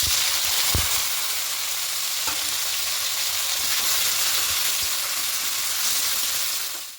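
Chopped onion and tomato hitting spiced oil in a pan, a broad continuous sizzle with a sharp clack near the start and a few faint knocks, fading out at the end.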